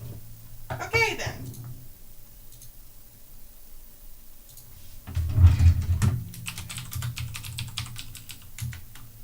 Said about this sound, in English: So if you hear my keyboard, that's why.